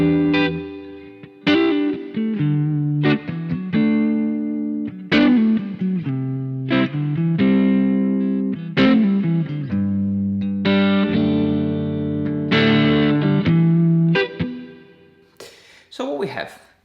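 An electric guitar with effects rings out chords embellished with added melodic notes, played at a steady pace with sustained, slightly distorted tones.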